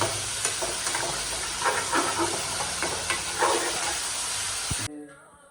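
Chicken pieces, liver and tomato with green chili frying in a hot pan, giving a loud continuous hissing sizzle with light stirring scrapes that cuts off abruptly near the end.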